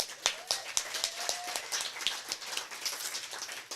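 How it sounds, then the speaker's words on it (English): An audience applauds at an evening storytime event, a soft patter of scattered claps with a few sharper individual hands, fairly quiet and thin. "and applause for them, yeah?"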